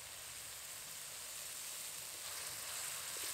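A soft, steady sizzle of spice paste with ground cashew and melon seeds frying in oil in a pan, faint and even throughout without any speech.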